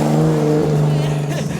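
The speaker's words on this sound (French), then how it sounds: "on déclenche, la voiture part en travers, contre-braquage évidemment" A car drifts sideways with countersteer on a driving course, its engine droning loudly and steadily with a sustained strained tone, while a voice talks over it.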